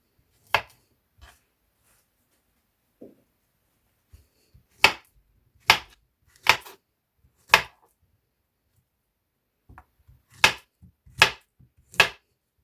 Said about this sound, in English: So guys, I am now prepping up the banana.